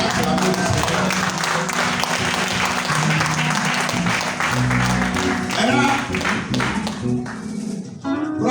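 Church congregation at a Sunday service applauding and cheering to acclaim the Lord, a dense continuous wash of clapping mixed with voices and music, loud and sustained throughout.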